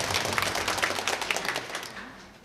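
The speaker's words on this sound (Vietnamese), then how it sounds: "Chúng con xin nổ một tràng pháo tay để cảm ơn sự hiện diện của cha Gioan." Church congregation at a midday Mass applauding to thank a priest, a steady patter of many hands clapping at moderate distance that fades out toward the end.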